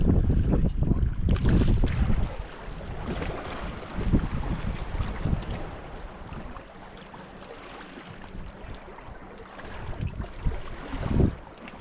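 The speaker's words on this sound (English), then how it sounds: "The wind is horrible." Strong gusting wind buffets the microphone at the end of a fishing pier, a constant roaring rumble that swells and eases, with no clear talking over it.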